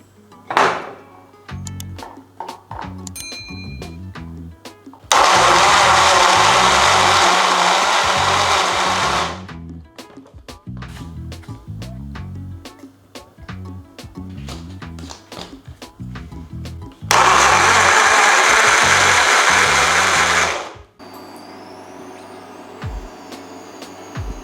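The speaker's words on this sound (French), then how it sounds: "je vais mettre tout ça dans mon mixeur" A small smoothie blender grinds garlic, ginger and tomatoes in two loud, steady bursts of several seconds each, with clinks and kitchen handling sounds in between.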